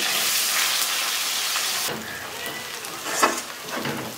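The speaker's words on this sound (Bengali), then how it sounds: "তো পেঁয়াজগুলো আমি এখন ছেড়ে দিচ্ছি গরম তেলে" Sliced onions hit hot oil in a pan where potatoes were just fried. A loud, dense, steady sizzle drops to quieter crackling with a few stirring knocks, close and without voices.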